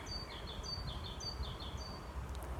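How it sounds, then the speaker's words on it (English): Birds singing outdoors, a series of high, thin chirps repeated in quick phrases, faint over a soft low rumble of background noise. "So you hear the voices of the birds."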